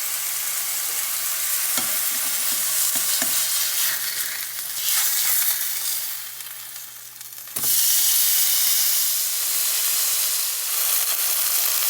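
Steady, close sizzling of fish frying in a pan, a continuous bright hiss with a few soft clicks and stirring scrapes, dipping briefly and then surging louder again.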